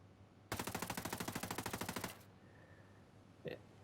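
The 516 Shorty rifle fired without a suppressor in the video game Ghost Recon Breakpoint: one close, loud, fast automatic burst of around twenty shots lasting about a second and a half, then quiet, with a single short click near the end.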